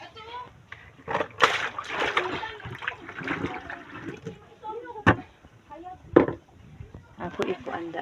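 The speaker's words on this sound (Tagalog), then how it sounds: "akong hugasan ang kuan kamuti" Sweet potatoes are washed in water in a bathroom, with splashing, sloshing and knocking of tubers against a basin, while someone talks over the intermittent watery bursts.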